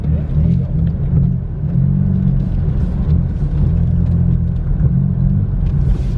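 A BMW M4 GT4 race car engine drones loud and close from inside the cabin, rumbling as the throttle is pumped on and off, with people talking over it.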